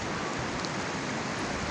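Sudden rain in a mountain village in Neelum Valley, a steady broadband hiss of falling drops, even and close, with no talking.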